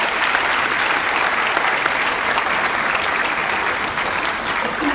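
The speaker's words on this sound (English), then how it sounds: "Give him a round of applause, please." Loud, sustained applause from a conference audience at Sierra Leone Mining Week greets the Minister of Mines and Mineral Resources, a thick, unbroken roar of clapping close by.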